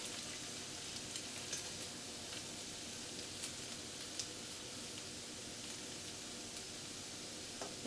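Potatoes cooking in a pan give a faint, steady frying sizzle with occasional small crackles and pops, continuous and quiet with no voices.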